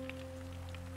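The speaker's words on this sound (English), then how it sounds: "It's actually raining today." Rain falls outdoors over foggy mountain ranges, a soft, steady patter spread evenly across the whole second, with a constant low hum beneath it and no voices.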